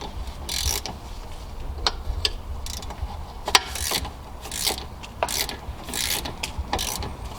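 Brake caliper bolts being removed on a Cadillac SRX: rapid ratcheting clicks come in short bursts with brief pauses, fairly quiet and close, and no talking.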